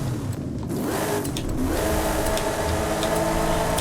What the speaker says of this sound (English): That's just a racing V8.